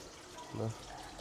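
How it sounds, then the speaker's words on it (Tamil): Steady rushing water runs continuously at moderate volume, with a short tonal burst rising briefly above it midway. "தண்ணியெல்லாம் ஓடிக்கொண்டிருக்கேன் இதில் இருந்து இந்த சத்தத்தை கேட்டுக்கொண்டிருக்கலாம்"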